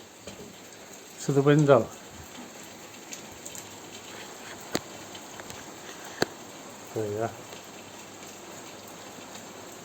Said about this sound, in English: So it's raining in Spain and we've got a bit of a thunder and lightning.